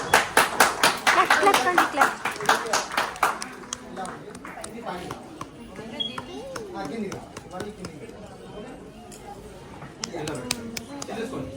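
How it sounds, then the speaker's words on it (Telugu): Guests at a Women's Day event in a Tanishq jewellery store break into loud, rapid clapping that fades into chatter and scattered taps, with people talking over the background. "ఒక పెద్ద అప్లాజ్ ఇవ్వండి"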